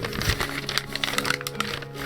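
A super-glued fan mail envelope is pried open, giving close, crackly tearing and crinkling paper noises with sharp cracks scattered irregularly over two seconds.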